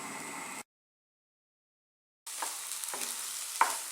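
A spoon stirs banana halwa cooking in ghee in a pan, giving soft scraping and faint sizzle, broken by a silent gap and then a few distinct scrapes and taps against the pan.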